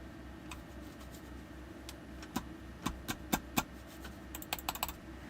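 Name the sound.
typing on a computer keyboard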